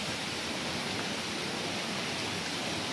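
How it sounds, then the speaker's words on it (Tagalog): Steady, continuous rush of flowing hot spring water at Mainit Hot Spring in Caibiran, Biliran, Philippines, close and even, with no pauses or voices. "Tingnan mo nga dito yung tubig na dumadaloy."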